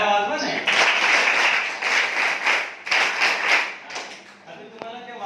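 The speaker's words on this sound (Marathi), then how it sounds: "आता यांच्यासाठी टाळ्या वाजवा" A class of students bursts into a few seconds of lively group clapping during a science demonstration lesson, with the applause tapering off toward the end.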